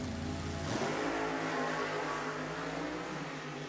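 A nostalgia drag racing car's engine revs at an NHRA Heritage Series event, a loud, steady roar that rises slightly in pitch as the RPMs climb, then holds.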